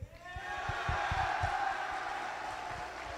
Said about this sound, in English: loudest and best applause so far